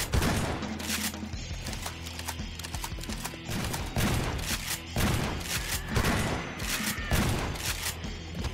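Rapid gunfire in a Garry's Mod horror map, loud repeated bursts of shots arriving in uneven clusters throughout, with game sound effects mixed in and no talk.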